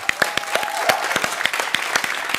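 An audience applauds at a university information-day event. The clapping is brisk and fairly sparse, with distinct individual claps in an indoor room and no cheering.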